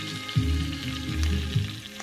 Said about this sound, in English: we're gonna add some butter and allow that to melt, and then add some crushed garlic